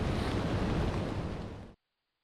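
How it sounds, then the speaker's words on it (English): Strong wind roars through woods in a steady, loud broadband rush that cuts off abruptly after under two seconds. "The wind's getting kind of nasty right now."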